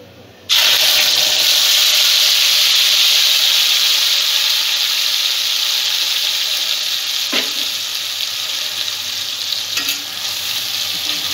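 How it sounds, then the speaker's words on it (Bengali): Loud, steady sizzle of an onion and ginger paste frying in a hot pan, starting abruptly and continuing throughout, with a couple of brief stirring scrapes. "পেঁয়াজ আদার পেস্টটা একটু ভেজে নেব"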